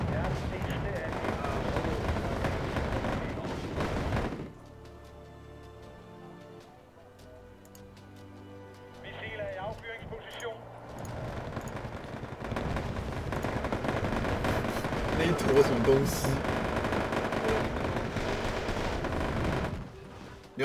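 Tank gunfire in the video game Wargame Airland Battle, loud booming shots and rumbling battle noise rising and falling across the stretch, with people talking over it.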